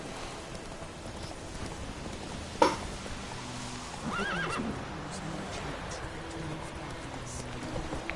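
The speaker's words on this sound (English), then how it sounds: "¡Llevo un caballo!" Horse in The Witcher 3 gives one short whinny, then its hooves clip-clop faintly against a soft rain-like background, fairly quiet and with no talk.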